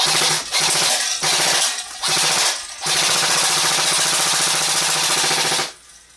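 An airsoft gun with a MOSFET installed fires semi-automatic at a can in quick repeated bursts of sharp clattering shots, three short volleys followed by one longer run, close and loud.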